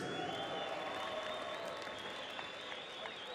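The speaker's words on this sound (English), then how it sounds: "how about a huge round of applause for these two valiant warriors?" A boxing arena crowd in Los Angeles applauds after a bout, a dense, steady wash of clapping and cheering that holds at an even level throughout.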